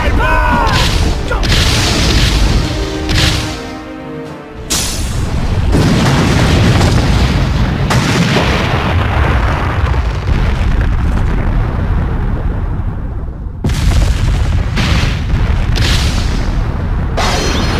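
Thunderous booms and blasts from a Butterfly Bomb attack in a Naruto fighting game, loud and sustained with repeated heavy impacts, a brief dip before another surge, and speech mixed in.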